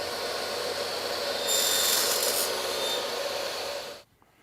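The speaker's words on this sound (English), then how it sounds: "I'm using a combination blade in my table saw that has alternating teeth" A table saw fitted with a combination blade cuts aluminum with a loud, sustained whine and a shrill metallic edge, then stops abruptly near the end.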